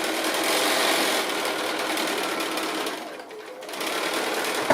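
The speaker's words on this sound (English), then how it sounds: "And then we're just sewing that seam and including that little flag there." A sewing machine stitches a seam on a boat quilt block, running in a steady, close, buzzing whir that dips briefly near the end before picking up again.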